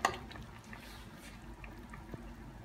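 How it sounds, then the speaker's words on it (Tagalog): Boiled chicken being drained of its cooking liquid for Pampanga-style chicken asado: a faint, soft trickle and splash of water with a few small squishy drips, continuous and quiet throughout. "i-drain natin siya. Para pag pin-dry ito natin, hindi magtalsikan."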